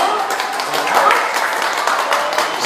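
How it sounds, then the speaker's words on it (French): An audience claps for Alexandra at a presentation for the Rallye Aïcha des Gazelles at the Artistic Garage, a dense, fairly loud burst of applause lasting a few seconds. "Alexandra, on l'applaudit très fort."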